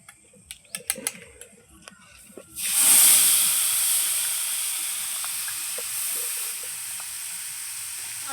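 Panch phoron spices hit hot oil for tempering khichuri and suddenly burst into a loud, steady sizzle that hisses on and gradually settles, after a few faint clinks and taps in a quiet kitchen.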